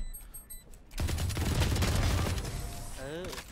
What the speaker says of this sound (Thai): เออเป็นปืน